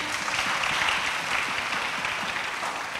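An audience in a French-language church training session claps in a dense, steady wash of applause, close and even throughout, with no voices standing out.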